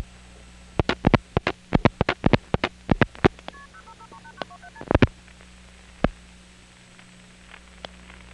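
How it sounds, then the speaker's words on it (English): A 10-digit number dialed on a payphone: a quick run of crisp touch-tone beeps, a pause, then a few more tones and scattered clicks over a steady line hum and faint static, with no talking. "here's 0, followed by a 10-digit number TSPS didn't like"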